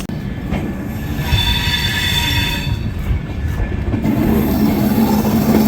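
The 13212 Intercity Express pulls out of Sakri station in Bihar with a loud, continuous rumble of wheels on rails, a high metallic squeal running through it and rhythmic clatter building as it gathers speed.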